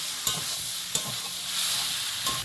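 Pointed gourd and potato pieces sauté with spices in a hot pan, giving a steady hiss of frying with a few sharp scrapes of a spatula. The sound is close and continuous, and no one speaks.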